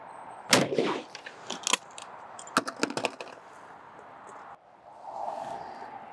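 A shotgun at a trap shooting range, firing light target loads through the top barrel, with a few sharp loud cracks and clicks close by, followed by a low rumbling hum.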